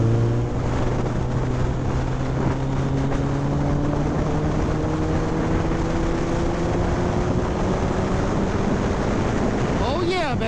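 A Kawasaki ZX14R (ZZR1400) motorcycle engine accelerates on a freeway, its loud drone climbing steadily in pitch under heavy rushing wind noise.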